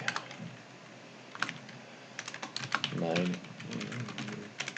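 Rapid, irregular keystrokes on a computer keyboard clatter up close in uneven bursts, with a brief voice murmuring partway through.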